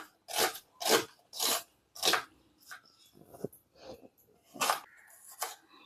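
Onions being chopped with a knife on a board while making egg paratha: a series of crisp, close cutting crunches, several in quick succession with short pauses, fairly quiet overall.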